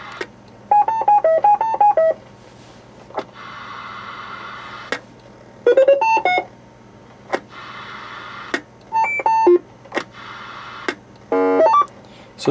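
Roger beep tones from an SD card noise toy box on a two-way radio: repeated bursts of quick electronic melodic beeps over a low radio hiss, separated by short pauses.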